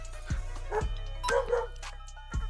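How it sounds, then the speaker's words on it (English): A dog in the Minecraft mod Cobblemon gives four short, close yipping barks in irregular bursts over a quiet background, with no one talking. "Stop barking at me."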